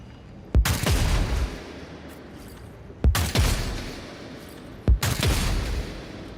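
Gunfire in a Warhammer 40k Dark Heresy game: three loud, close shots spaced a couple of seconds apart, each a sharp crack followed by a roaring, echoing tail, with no talking.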